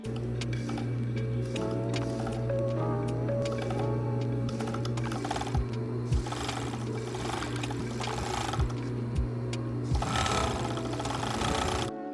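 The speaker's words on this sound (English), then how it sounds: "What I'm going to do is just serge them together, the facing and the lining." A serger overlocking a corset's facing and lining together around the armholes, a steady close mechanical whir running nearly throughout with brief pauses and small clicks, no talk.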